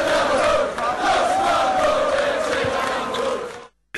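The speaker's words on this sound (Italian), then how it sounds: "a partire dai tifosi che hanno onorato la loro squadra del cuore intonando lo squadrone ce l'abbiamo noi" Reyer Venezia basketball fans at a European cup final chanting a team song in unison, a loud, dense, sustained crowd chorus filling the arena before cutting off abruptly near the end.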